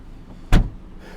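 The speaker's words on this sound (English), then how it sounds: "as I close this trunk" The trunk lid of a 2021 Toyota Corolla SE slammed shut, a single sharp close-up thud over a quiet background.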